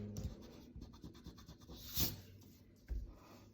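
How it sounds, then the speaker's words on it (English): A pencil drawing on paper being rubbed out with an eraser, soft quick back-and-forth scrubbing strokes close by, with a few sharper brushes and taps between them. "So now you can erase the bottom of our circle."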